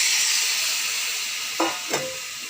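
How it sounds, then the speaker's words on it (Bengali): Boiled vegetables and their cooking water poured into a hot pan: a steady broadband sizzling hiss with two short splashing bursts of liquid hitting the oil near the end, no talk. "সবজিগুলো সব দিয়ে সবজি সিদ্ধ জলটাও দিয়ে দিলাম।"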